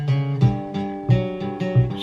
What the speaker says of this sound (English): There's a transition from the chorus into a melody instrumental part, which is a guitar thingy